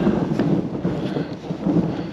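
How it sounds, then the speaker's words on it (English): Thunder rumbles during a hike in Arizona near ancient cliff dwellings and pueblo ruins, a loud, continuous low roll with swelling pulses and no speech over it. "Still a lot of thunder."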